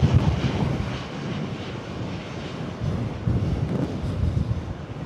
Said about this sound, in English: Taxiing past is the Tap Air Portugal coming in from Lisbon.